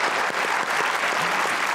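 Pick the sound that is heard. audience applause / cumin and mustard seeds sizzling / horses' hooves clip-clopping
audience applause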